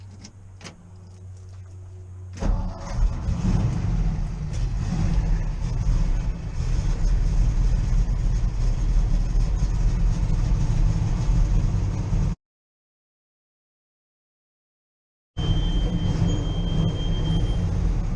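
A 1962 Ford F800 truck engine, running on the choke, gives a steady, loud mechanical roar and rumble close by after a quieter start, cuts to silence briefly, then resumes at the same level.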